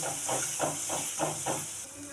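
Masala of turmeric, coriander powder and garam masala fries in hot oil for a spicy toor-bean curry, giving a steady close hiss with about six soft rhythmic swells as it is stirred.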